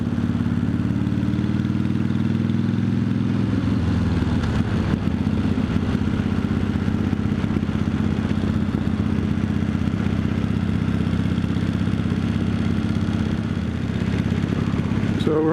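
Harley-Davidson FXRS-SP motorcycle riding along Holiday Inn Drive in Cambridge, its engine a steady loud mid-range drone with wind rumble and a brief shift in tone partway through, continuous throughout.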